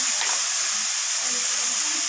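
Spices with turmeric and a little sugar frying in a pan with prawns, a steady loud sizzle and hiss with faint stirring, alone without talk.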